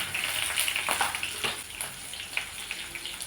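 Chopped onions, curry leaves, ginger and green chillies with salt sizzle in a hot pan, a steady close hiss with scattered crackles and no talk.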